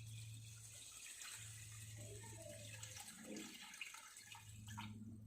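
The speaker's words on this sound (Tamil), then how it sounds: "அரிசியை நல்லா கழுவிட்டு நம்ம இதையும் ஊற வைக்க போகிறோம்." Rice being washed for chicken biryani makes a steady low swish and slosh of water with faint clinks, continuous and quiet, with a low hum underneath.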